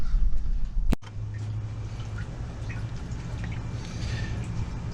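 Coolant drains from the radiator of a 2004 Mercedes E320 wagon into a catch pan, a steady low liquid pour and trickle after a brief louder splash near the start, with no talking.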